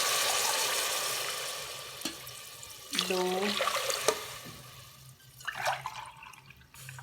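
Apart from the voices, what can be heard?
water being poured into a pot of potatoes and peas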